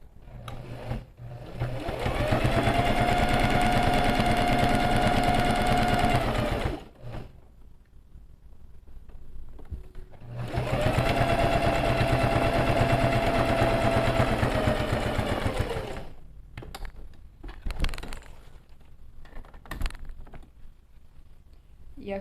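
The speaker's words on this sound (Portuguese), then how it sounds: "E aí eu vou dar continuidade na costura para que vocês possam ver como fica no final" A sewing machine stitches a quilted diamond pattern through outer fabric and lining together, running in two long, loud, even bursts of rapid needle chatter separated by a quiet pause with handling clicks.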